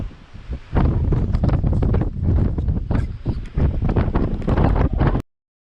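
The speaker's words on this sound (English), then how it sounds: "now the wind is blowing about 25 miles an hour" Strong wind gusting at about 25 miles an hour buffets the microphone outdoors beside water where kayakers paddle during a Detroit bike ride, a loud steady roar that rises after a quieter start and then cuts off abruptly.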